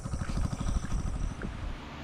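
A diesel engine left idling at night keeps up a steady low mechanical chug with a rhythmic pulse, fairly quiet and alone.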